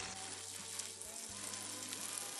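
Eggs frying among stewed tomatoes in a pan for shakshuka, a steady close sizzle and crackle with a low bubbling hum underneath, no talk.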